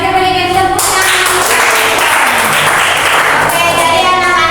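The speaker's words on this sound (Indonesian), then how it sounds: "mari kita berikan tepuk tangan" A classroom of students applauds after a math presentation, brisk clapping from many hands that rises after a brief sustained tone and continues steadily to the end.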